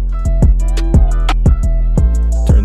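A pitched-up melody sample runs through a Filter Freak step up/down preset in FL Studio, playing rhythmic plucked notes with a pulsing filtered texture over a deep low bass, loud and upfront.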